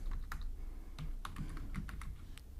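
A computer keyboard is typed on while someone codes a note app: quick, uneven keystrokes close by, with clustered clacks and short pauses between them.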